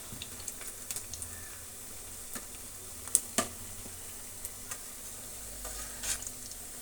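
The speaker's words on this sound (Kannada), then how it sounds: "ಈ ರೀತಿ ಟರ್ನ್ ಮಾಡಿಕೊಂಡು ಚೆನ್ನಾಗಿ ಡೀಪ್ ಫ್ರೈ ಮಾಡ್ಕೋಬೇಕಾಗತ್ತೆ" Alasandi masala vada deep frying in hot oil, a soft continuous sizzle broken by scattered light pops and ticks, one sharper crackle near the middle, close and quiet, with no voices.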